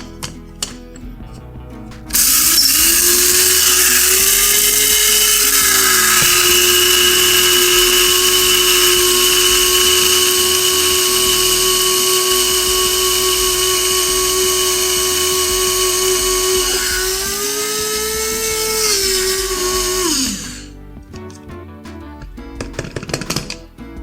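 Electric grinder milling two scoops of mustard seeds, a loud steady high-pitched whir that runs continuously for about eighteen seconds, dipping slightly in pitch midway, then winds down and stops.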